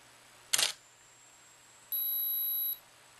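A Nikon camera pairing with its flash: a short sharp click-like burst, then after a pause a steady high electronic beep lasting under a second, close and fairly quiet in a still room.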